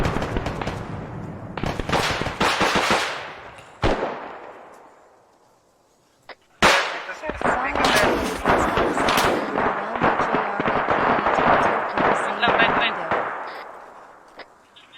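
Video game gunfire crackles in dense rapid bursts, two long loud volleys of rattling shots separated by a brief lull, with players' voices mixed in.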